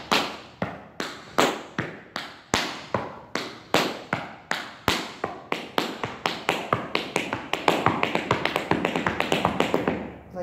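Tap shoes brush and flap across a floor in a steady stream of crisp, close taps, starting evenly spaced and speeding into faster, smaller steps toward the end.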